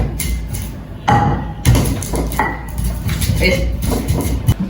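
Spices are ground with a stone mortar and pestle, giving irregular close knocks, scrapes and thuds of stone on stone, with some faint voices in the background.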